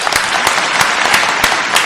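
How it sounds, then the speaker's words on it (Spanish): Studio audience applause welcoming the rap artist Donkey Rap onto a talk program, dense and loud, with sharp claps spiking through the steady wash for the full stretch. "démosle la bienvenida con un fuerte aplauso a Donkey Rap"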